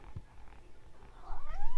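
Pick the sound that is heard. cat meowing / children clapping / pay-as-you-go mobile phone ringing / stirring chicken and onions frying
cat meowing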